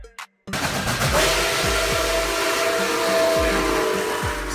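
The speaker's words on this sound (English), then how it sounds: "Steam locomotive, a type of train engine that uses steam power" A steam locomotive gives a steady, loud hiss and roar after a brief gap at the start, with faint periodic low thumps under the continuous rush of steam.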